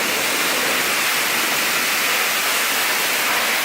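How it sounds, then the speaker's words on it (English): An Icelandic waterfall heard from behind the falling water roars as a dense, steady, broadband rush, loud and unbroken with no voices. "Just hanging out behind the waterfall."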